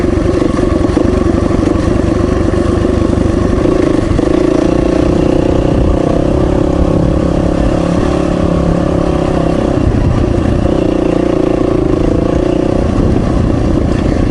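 A small dirt bike ridden along Forest Road 211 trail near Meeker, engine droning steadily and loudly throughout with rising and falling revs and some clatter, no talk.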